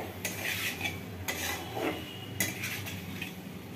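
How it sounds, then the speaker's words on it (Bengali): Fried eggplant stirred into spice masala in a pan for a potato-eggplant curry with dried fish, three bursts of metal spatula scraping and clinking against the pan over a low sizzle, close and moderate. "বেগুনটা অলরেডি আগে ভেজে নিয়েছি, জাস্ট মশলাটার সাথে মেশাবো একটু।"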